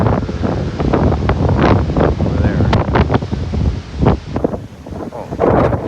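Strong wind buffets the microphone at an ocean shore as a storm approaches, with waves and surf roaring steadily underneath and trees rustling; a person speaks briefly over the loud, continuous gusts.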